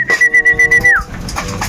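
Pet birds at feeding time with corn, a cooing pigeon-like call pulsing rhythmically several times, then a clear whistle-like tone gliding down, close and loud with faint background noise.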